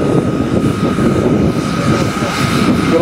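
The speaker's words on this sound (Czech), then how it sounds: "je to maketa dopravního letounu" A steady, loud jet engine drone of a flying RC scale model MD-80 airliner, with a continuous whine and no breaks.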